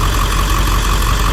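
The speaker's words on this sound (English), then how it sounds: "There's a truck here that's idling." A truck idles near tennis courts amid hurricane debris in Florida, its loud steady engine drone and low rumble continuous and close throughout, with no voices.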